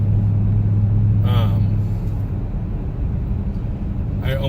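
A 2009 Cadillac CTS-V cruises in standard drive mode, giving a steady low engine and road rumble inside the cabin, with brief talk over the drone.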